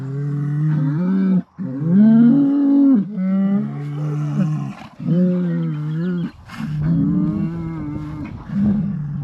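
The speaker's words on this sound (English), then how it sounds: "They've got a bunch of bulls in their pasture." Bulls and cattle in a pasture moo loudly and close by, a run of long, drawn-out calls following one another with only brief pauses and no talking.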